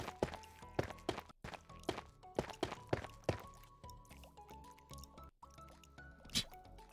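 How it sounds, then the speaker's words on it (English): Water dripping in the video game Minecraft, a string of clear plinking drops at an uneven rhythm, some hollow and thunky, close and distinct over a faint ambient background. "Love all the dripping sounds."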